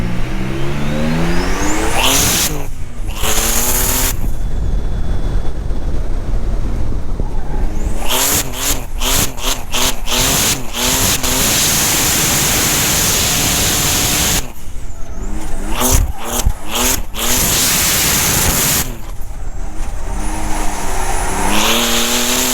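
A red Nissan 240 drift car with a 1JZ swap revs hard and loud up close, its engine climbing and dropping through repeated bursts, with sharp gear-change breaks and tire squeal between pulls.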